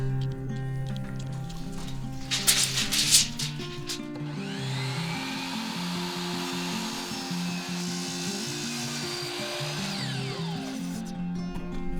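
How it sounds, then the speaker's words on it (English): A hammer drill bores through a wooden bottom plate into a concrete stem wall while wall sections are being anchored, producing a loud, sustained grinding whir that holds steady for most of the stretch, with a harsher burst early on. "drill out using our hammer drill to get down below this bottom plate back into the concrete stem wall"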